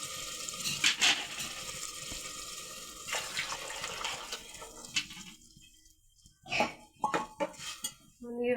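Strained boiled spinach water is poured into a pot of hot oil while cooking palak pulao, with a near, clattering wash of water and clinking of metal pots and utensils in bursts.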